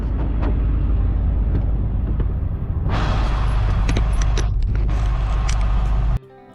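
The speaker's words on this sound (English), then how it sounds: "So here I'm going to be loading the CRV onto my flatbed" A Honda CR-V is loaded onto a flatbed tow truck, with a loud steady engine rumble and mechanical whine from the truck, a sharp change in texture partway through, then an abrupt cutoff near the end.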